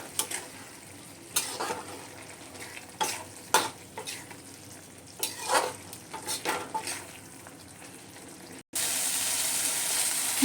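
Chicken mince stirred with yogurt in a pan: repeated scraping strokes of a spatula over a soft sizzle, irregular and close, ending in a sudden louder broadband hiss after a brief break.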